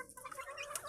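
Small peeping and clucking calls from young pet chicks being fed in a backyard setting, overlapping chirps in a steady, fairly close cluster with no talk.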